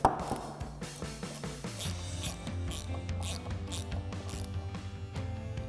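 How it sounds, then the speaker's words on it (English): A ratchet fitted with a 10mm socket tightens a bolt on an oil separator install for a 2011-2023 Mustang, giving rapid, close metallic clicking in repeated bursts of pawl ratchets. "we can grab our ratchet with our 10mm socket and tighten that down"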